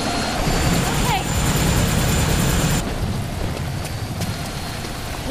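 A helicopter in a NeverDead video game cutscene at Agency HQ gives a steady rotor drone mixed with rain-like hiss, with a brief whooshing sweep; partway through, the texture shifts and the sound thins out slightly.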